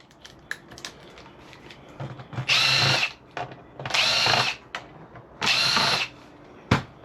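A power driver backs Torx screws out of scrapped e-waste, three loud whirring bursts of a couple of seconds each, separated by clicks and handling noise, with no talking.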